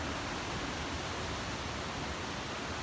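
Steady roar of a waterfall amid misty mountain scenery, a dense, even wash of falling water close by with no voices.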